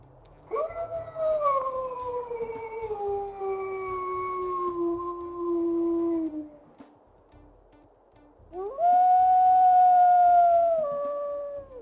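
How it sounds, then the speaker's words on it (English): A wolf character in the game Wayfinders gives a long, clear howl that slowly falls in pitch, then a second shorter howl after a pause, loud and alone. "Let's go ahead and listen to her howl."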